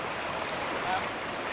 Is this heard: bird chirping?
no